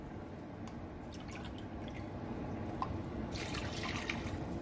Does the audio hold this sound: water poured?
yes